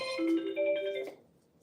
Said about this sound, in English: People got a phone call coming in.